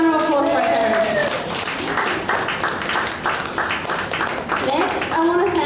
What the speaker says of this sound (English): Big round of applause for my parents